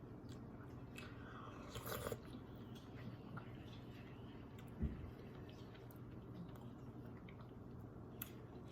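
Someone eating a spoonful of low carb zuppa toscana soup, with soft close-up chewing and faint mouth sounds over a quiet room and one small knock midway.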